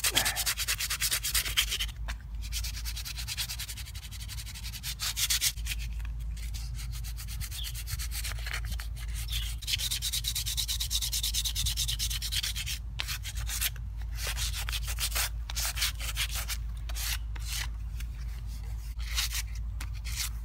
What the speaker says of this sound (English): So now I'm gonna take some uh, 150 grit sandpaper just kind of kind of go over it a little bit